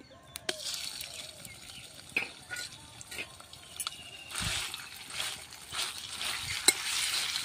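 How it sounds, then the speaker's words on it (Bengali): Ground shrimp paste goes into hot onion-frying oil in a wok, producing a fairly quiet sizzle broken by sharp clicks and stirring knocks, with a louder burst of crackling toward the end. "পেঁয়াজ ভাজার তেলটা গরম হয়ে গেছে। এবার আমি এর মধ্যে বেটে রাখা চিংড়ি মাছটা দিয়ে দেব।"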